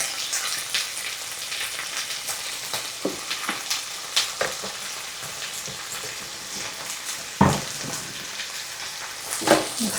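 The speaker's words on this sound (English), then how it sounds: "now then I'm going to put my rice in here and brown it for about 2 to 3 minutes" Rice browning in olive oil in a skillet makes a steady, soft frying sizzle, with occasional sharper crackles and stirring scrapes against the pan.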